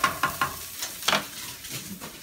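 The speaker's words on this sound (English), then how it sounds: "Now that our onions are caramelized and that garlic's infused," Caramelized onions and garlic in a pan, heard as a soft sizzle broken by several clattering stirs and scrapes up close.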